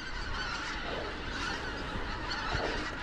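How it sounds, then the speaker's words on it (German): A few geese honk repeatedly beside a river, their calls soft and somewhat distant over a steady outdoor background. "das sind so ein paar Gänse."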